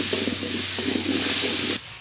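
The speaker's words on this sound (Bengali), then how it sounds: "তেলের মধ্যে আলু ভেজে নেব" Potatoes fry in hot oil with salt and turmeric, giving a steady close sizzle with faint stirring scrapes that stops abruptly near the end.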